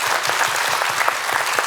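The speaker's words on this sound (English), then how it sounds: "Let's give our artists another round of applause" A theatre audience claps for the performing artists at a Cascadia-themed show, dense and continuous applause from a sizable crowd, fairly loud and close.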